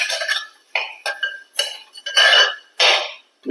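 Rice being stirred and roasted in an uruli pan, with repeated scraping and rattling strokes in short, irregular bursts, close and fairly loud, and no talking.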